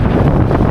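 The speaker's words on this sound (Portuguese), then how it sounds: "Vento muito forte, gente. Nossa, que rajada mais forte." Strong gusty wind buffets the microphone in a dense, continuous roar that surges in gusts, outdoors during a bicycle trip on the road, with no speech.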